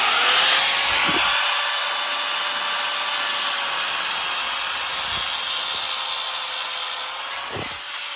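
A power saw cuts through the metal post of a hydraulic ATV lift stand being converted to a ballscrew, giving a loud, steady high-pitched grinding whine for the whole stretch with a few faint knocks.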